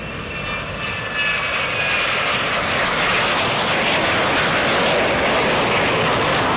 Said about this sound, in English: This is what flying a Blue Angels jet looks